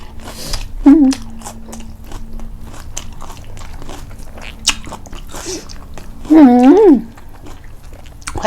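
Crunchy salmon papaya salad with boiled bamboo shoots being bitten and chewed up close, a steady run of small crisp crunches, with a talking voice breaking in twice.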